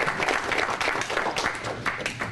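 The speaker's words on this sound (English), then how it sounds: "So give her a big round of applause." Audience at a commercial real estate panel breaking into a big round of applause, a continuous crowd of hands clapping loudly and evenly for the whole stretch.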